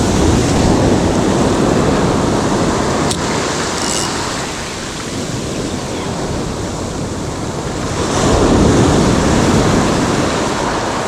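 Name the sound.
ocean waves washing against the shore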